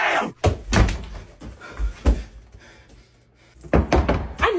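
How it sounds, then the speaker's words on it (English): A door being shut in a classroom, several heavy thuds and knocks spread across the stretch, with some voices and shuffling in between. "Wait, don't shut the door."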